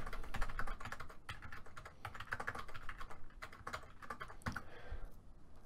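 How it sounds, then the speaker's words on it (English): Fast, steady typing of numbers on a computer keyboard while logging freelance writing data, a dense run of close, crisp key clicks with brief pauses and no talking. "I'd go in and then manually type in the numbers"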